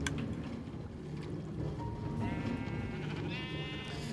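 Sheep on a Minecraft sheep farm bleat in a couple of wavering, nasal cries over a dense, steady game background. The sound is moderately loud and close, with no talking.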